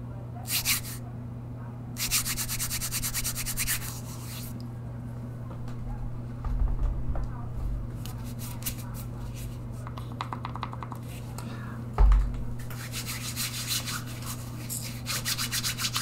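Dry, raspy rubbing of hands together, close up, in several bursts with short pauses, over a steady low hum.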